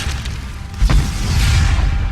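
A single deep explosion booms out in the video game Skyrim, a short heavy thud that rises above a steady low rumble of game sound and then fades.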